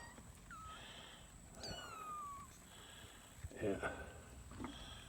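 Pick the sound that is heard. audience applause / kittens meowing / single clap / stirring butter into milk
kittens meowing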